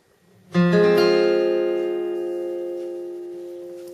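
A single minor chord strummed once on a guitar's first four strings, ringing out and slowly fading over several seconds, close and clear with no voices.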